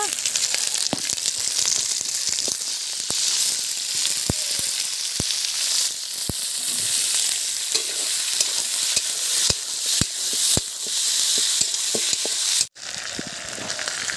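Chicken skin and feet fry in onion-soaked oil, a loud, continuous sizzle close up, broken by sharp clicks of a spoon stirring against the pan and a brief dip near the end.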